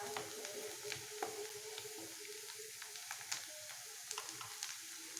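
Onions frying in oil for a dry fish chutney give a steady, soft sizzle peppered with small crackles and pops, fairly quiet and close, with no voices.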